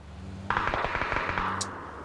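Gunfire in the battle royale game PUBG (Battlegrounds): a sudden rapid burst of shots crackles for about a second, followed by a brief high ping, with no talk.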